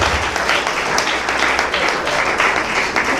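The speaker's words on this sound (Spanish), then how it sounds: "Dele palmas al Señor." A church congregation claps and applauds during a sermon, dense sustained clapping from many hands filling the room for a few seconds.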